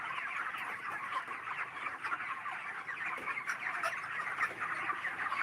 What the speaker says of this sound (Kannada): ಮೂವತ್ತು ದಿನಗಳ ಒಂದು ಮರಿಗಳು ಸ್ನೇಹಿತರೆ